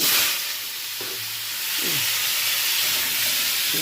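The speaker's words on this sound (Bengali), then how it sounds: "আলুগুলো ভেজে নেবো একটু" Potatoes frying in a hot pan give off a steady, close sizzle and hiss, broken by a few scraping stirs, with no voices over it.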